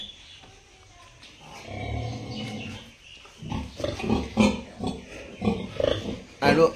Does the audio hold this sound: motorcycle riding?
no